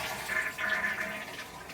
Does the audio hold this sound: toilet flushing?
yes